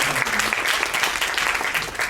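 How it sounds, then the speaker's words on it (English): Applause from a workshop audience for a guest speaker at a hawker business event, a dense, steady clatter of many hands clapping close by with no voices over it. "Round of applause for Mr. Fondueman."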